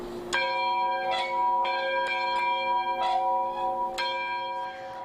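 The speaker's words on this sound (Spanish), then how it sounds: "sonando la campana en la primaria Jefferson" A school bell rings at Jefferson Elementary on the first day of the school year, with several bright metallic strikes at an uneven rhythm whose tones ring on and decay. It is fairly close and clear, with no talk.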